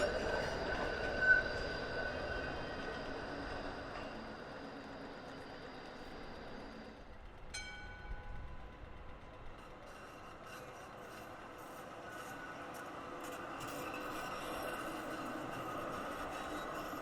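A Melbourne E-class tram rounds the curve into Flinders Lane near Market and William Streets, its wheels giving a steady high-pitched squeal over rolling rail noise and street ambience, fairly distant and moderate in volume.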